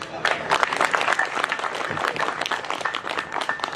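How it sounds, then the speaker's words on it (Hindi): Audience at a Hindi comic poetry gathering in Haryana clapping hard on request, a thick, energetic stretch of applause with crowd noise and some voices mixed in. "पीट के दिखा दो एक बार।"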